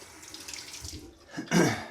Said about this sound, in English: Let me fill up my bowl with some warm water